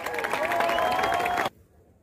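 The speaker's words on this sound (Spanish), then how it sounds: "a todos un fuerte aplauso." Audience applause with some cheering at a university event, a loud, even wash of clapping mixed with a sustained tonal voice or whistle, cutting off abruptly after about a second and a half into near silence.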